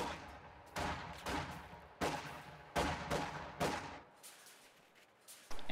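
Repeated bursts of gunfire crack through a video game battle in a World War strategy match, loud volleys arriving every second or so over a constant rumble, then a brief lull before another shot.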